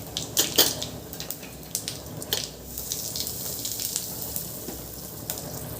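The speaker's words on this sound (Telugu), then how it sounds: "కొద్దిగా చింతపండు నానబెట్టుకున్నానండి, దాని వాటర్ కలుపుకున్నాను అందులోకి" Tamarind soaking water is poured into cooking spinach lentils (palak dal), giving a close, splashy liquid pour with gentle bubbling, heard alone without talk.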